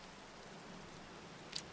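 Steady rain hisses evenly in Minecraft, a constant soft wash of falling drops with one brief brighter tick near the end, and no one speaking.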